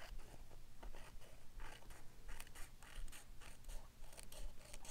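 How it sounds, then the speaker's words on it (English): Cutter Bee craft scissors trim a strip of paper, producing a string of soft, close snipping and rustling cuts in a quiet room, with no voices. "I'm just gonna take some, my cutter bee scissors and just trim that off."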